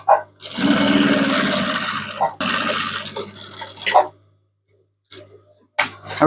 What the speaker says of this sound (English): we're gonna flat stitch down the side before all the sides before we put on the top layer